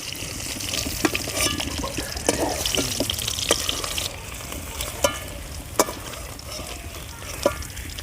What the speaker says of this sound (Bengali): পনিরগুলো বেশি কড়া করে ভাজবো না হালকা করে ভেজে নেব